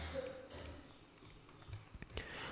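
A computer mouse clicks during work in Blender 3D software: a few sharp, scattered clicks, close and faint, over a low background hum.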